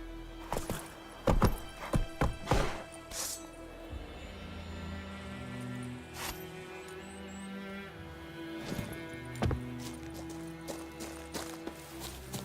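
Horse hooves clip-clopping in The Witcher 3, a run of loud, close thuds at the start that eases into a steadier, quieter trot over a low ambient hum, with occasional louder hoof strikes later.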